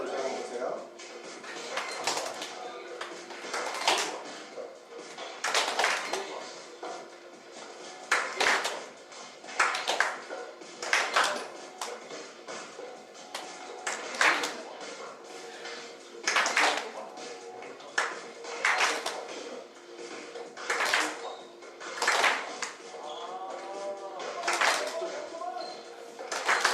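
A church revival audience claps together in a steady rhythm, a series of sharp, loud unison bursts spaced a couple of seconds apart, with faint background sounds between them.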